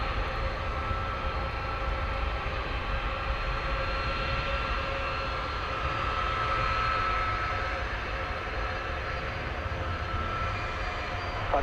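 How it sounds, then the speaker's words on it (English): An Airbus A300 taxiing at DFW Airport gives off a steady, continuous jet engine hum with a broad roar, fairly close and unbroken throughout, with no talk. "Listen in on its engines humming."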